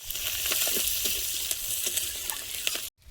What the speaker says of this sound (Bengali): আলুটা ভেজে নেব। লঙ্কা, গোটা জিরে, পেঁয়াজ আর চেরা কাঁচা লঙ্কা